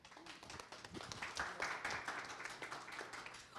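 Audience applause at a literary-genres panel at the Bienal do Livro in São Paulo, a dense patter of many hands clapping steadily for several seconds, moderately close, with no talk over it.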